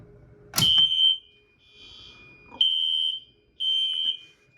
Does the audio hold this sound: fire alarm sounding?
yes